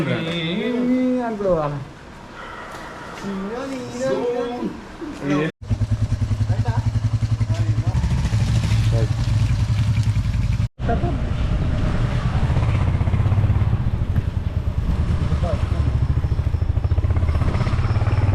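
Motorcycles setting off on a group ride from Hyderabad toward Chikkamangaluru, a sustained engine drone with wind buffeting the microphone, preceded by a person talking and broken by two brief dropouts.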